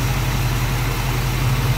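1965 Ford Mustang convertible engine idling with the hood open, a loud, close, steady low rumble with an even throb and no voices over it.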